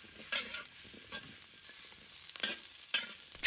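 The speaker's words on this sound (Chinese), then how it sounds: "就可以把萝卜放进来翻炒" Sliced radish stir-fried in a wok with shiitake mushrooms and shrimp: a steady close sizzle broken by repeated scraping spatula strokes and tossing clatters at an uneven rhythm.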